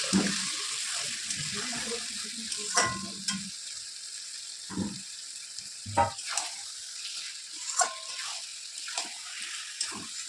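Marinated meat fries with sautéed spices in a pan, a moderate crackling sizzle punctuated by repeated stirring scrapes and bursts at irregular intervals.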